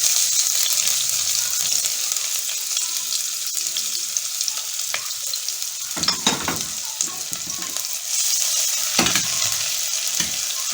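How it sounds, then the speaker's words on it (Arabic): Onions dropped into hot oil for moussaka hiss and sizzle loudly and continuously, with a few sharper stirring clatters partway through. "الماده الدهنيه سخنت، هنحط البصل."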